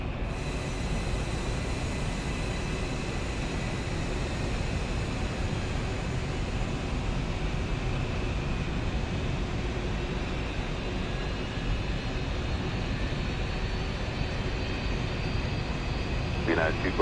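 An airliner's number one jet engine starts during a transcontinental flight from Los Angeles to New York, heard as a steady, broad rumble and whine inside the aircraft, with muffled radio voices over it.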